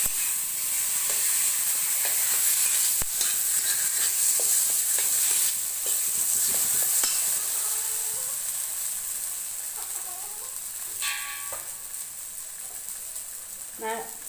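Soft sizzling of jackfruit seeds frying in a pan, with light stirring scrapes and a few clicks, steady and fairly quiet.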